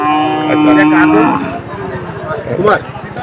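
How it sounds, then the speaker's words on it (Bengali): A red dairy cow lows at a cattle market in Khulna, a long drawn moo held loud and close, then a second, rougher call with busy market noise around it. "একটা লাল রঙের গাই গরু"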